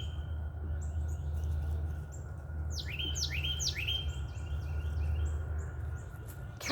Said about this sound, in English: Listening to those birds, so pretty.